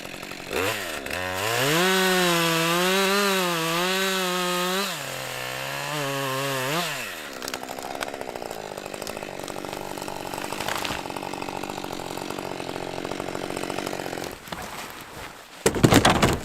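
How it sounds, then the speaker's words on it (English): A chainsaw cutting down a dead tree in a winter forest, its engine loud and close, revving and wavering before settling into a long, rough cutting drone. "We're gonna cut down this last one right here, haul this one out for lumber"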